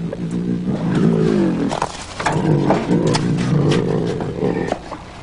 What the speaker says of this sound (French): Les tigres savent à quoi s'attendre.